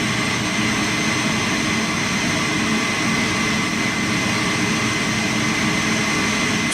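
Jet aircraft on an air mission over the Sahel region of Burkina Faso, heard as a steady, loud, continuous engine roar that holds constant throughout without talk.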